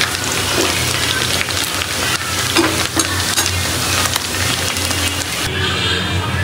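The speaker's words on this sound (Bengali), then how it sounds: "এখানে দুই পাট ভালো করে সুন্দর করে ভেজে নিতে হবে।" Meat pieces fry in a pan with a loud, continuous crackling sizzle, broken by occasional scraping and stirring clatter and a sharp shift near the end.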